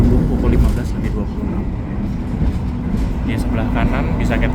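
An Argo Anjasmoro passenger train on the Surabaya–Jakarta line rolls along the rails, heard from inside as a steady, loud rumble with light clatter while a person talks over it.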